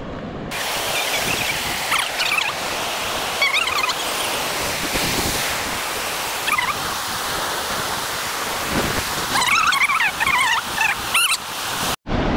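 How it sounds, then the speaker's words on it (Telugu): Steady, loud rush of water flowing at a reservoir dam fills the whole clip, broadband and continuous, with faint chirps and distant voices mixed in. "నేను మీకు ఇక్కడ వాటర్ ఫ్లో కూడా చూపెడతాను దగ్గరికి వెళ్ళి"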